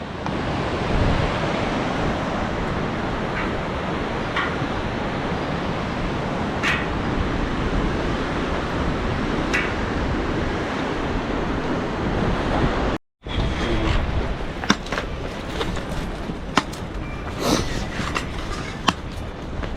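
Snowmelt river water rushes below a suspension bridge on a Himalayan trek in Nepal, a loud continuous roar mixed with wind buffeting the microphone and a few sharp clicks.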